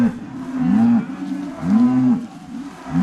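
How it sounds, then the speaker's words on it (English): Newly arrived cattle in a paddock moo loudly in long, repeated bellows, several calls overlapping one after another with no talk, close by and agitated. "putting new cattle in a paddock and just taking them right out into the field"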